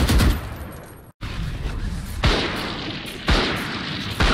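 Rapid bursts of gunfire from the video game Valorant rattle loud and close in three separate volleys, each starting with a sharp crack and trailing off, with one abrupt silent break early on.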